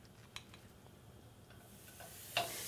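Chopped onions hit a hot frying pan for Ethiopian shiro and set off a sudden sizzle near the end, after quiet stirring and a few light scrapes.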